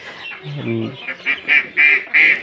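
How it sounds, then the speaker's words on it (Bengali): Ducks at a village duck house, a run of short nasal honking quacks getting louder and closer together, close to the microphone, with no talking. "এই যে আমাদের দেখতে পাচ্ছেন বিশটা হাঁস"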